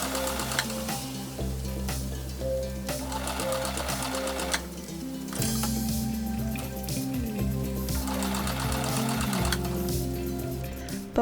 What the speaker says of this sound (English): baste all along this side to secure everything in place, and baste all along the top to secure everything in place